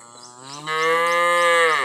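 Cattle on a farm give a single loud, close moo, starting low and swelling into a long sustained bellow of nearly two seconds, with no voices.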